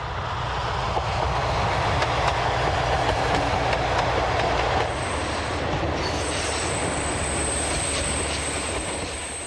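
The Agrivap panoramic railcar X 4208 runs along the rails with a continuous loud rumble, rhythmic wheel clatter and high-pitched squeals of the wheels in the second half.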